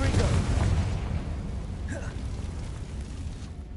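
A Confringo spell explosion in the Hogwarts Legacy video game, a loud booming burst at the start that rumbles and fades away over a few seconds, while a player talks.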